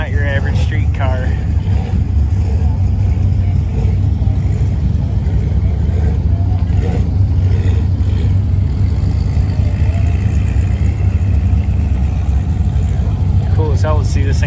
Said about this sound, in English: Cool as hell to see this thing driving down the road.